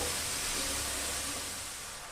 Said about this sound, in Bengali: এবার আমি গাজরটাকে খুব ভালো করে ভেজে নেব।